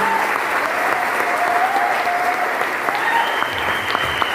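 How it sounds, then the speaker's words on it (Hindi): Dense, steady applause from an audience at a success-story gathering in Varanasi greets a guest, filling the whole stretch at an even level with faint voices mixed in. "एक बार जोरदार ताली शिवम सर के लिए"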